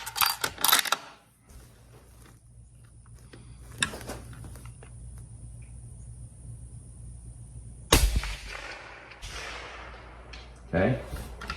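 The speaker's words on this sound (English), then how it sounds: "I'm going to shoot and holding the trigger." Rifle shots fired from a shooting bench, a few sharp loud cracks spaced seconds apart with quiet stretches between, and someone talking at times in between.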